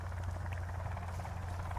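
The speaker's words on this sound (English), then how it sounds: "there's literally a helicopter right there." Helicopter in the survival video game Sons of the Forest, a steady, loud rotor drone with a deep continuous thrum and no talk over it.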